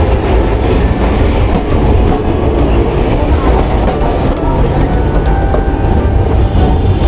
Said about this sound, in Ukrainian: Я вийшов з цього двоповерхового трамваю.